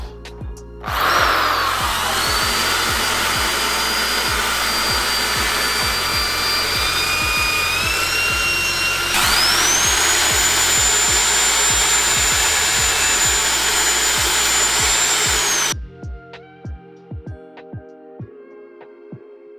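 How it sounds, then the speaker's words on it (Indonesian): A power drill whines steadily for about fifteen seconds while drilling into a wall to mount a TV bracket, shifting to a higher pitch partway through, then cuts off leaving faint clicks and ticks. "sekarang kita lanjut langsung ngebor aja ya guys"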